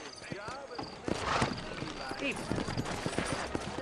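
Horses' hooves clip-clopping on a town street in Red Dead Redemption, a quick run of close, crisp knocking steps with uneven rhythm, mixed with voices talking.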